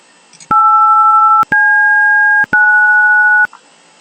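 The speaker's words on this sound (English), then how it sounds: "Each button on a telephone keypad generates a unique sound when pressed." Three telephone keypad buttons are pressed one after another, each giving a steady, loud two-tone beep lasting about a second, with short gaps of silence between them.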